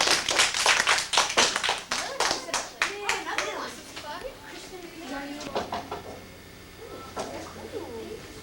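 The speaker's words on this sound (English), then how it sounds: "Everybody, can we clap for our visitor?" A fifth-grade classroom of children claps for a visitor, a burst of sharp overlapping handclaps that fades after a few seconds into scattered voices and light classroom chatter.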